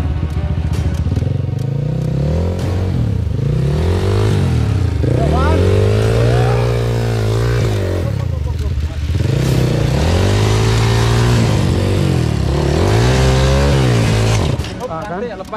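A motorcycle being pushed along a rough fighters' trail has its engine revved again and again, each rev rising and falling in pitch, loud and close, with crackles and thumps and people talking under it.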